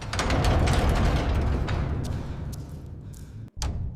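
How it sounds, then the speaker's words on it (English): A heavy steel door in an abandoned hospital shudders and rattles, giving off loud, dense low thuds and mechanical clatter that rumble on steadily, break off for an instant, then resume. "A heavy steel door at the end was shuddering, like something pushing from the other side."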